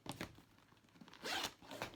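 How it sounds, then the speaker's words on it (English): A zipper on a leather bag is pulled closed in a few short zips, with one longer, brighter pull near the end, close and quiet. "you can zip it across the top here. So it'll close up like this"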